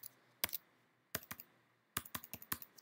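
Computer keyboard typing, a few quick clusters of crisp key clicks separated by short pauses, quiet and close with nothing else heard.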